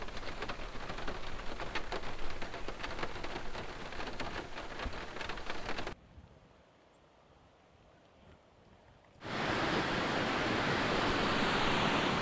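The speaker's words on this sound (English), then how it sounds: "It's been raining all night, nice and steady, light rain." Steady light rain patters on the roof of a van, a dense hiss that drops away briefly to near quiet before returning at full strength.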